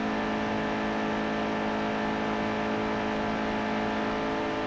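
Race car engine from NASCAR Heat 2 during a qualifying lap at Atlanta Motor Speedway, a steady, loud, droning whine held at constant revs throughout with no talk.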